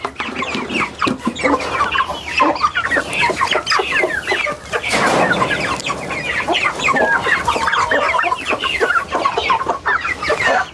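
A flock of white chickens, a bred variety, clucks continuously and fairly loudly at close range, many overlapping calls with a busier burst midway and no talking.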